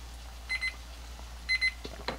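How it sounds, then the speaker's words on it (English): A kitchen timer goes off while bacon fries, giving two pairs of short bright beeps about a second apart over a constant low hum, with faint kitchen clatter near the end. "That's the timer."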